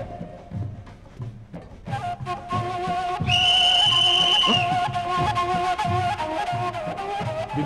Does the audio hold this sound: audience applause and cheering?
no